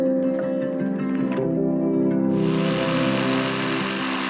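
A jigsaw makes diagonal cuts in wood for a wooden mountain bike rollercoaster built in the bush, giving a loud, steady motor drone that turns harsher and buzzier as the blade bites partway through.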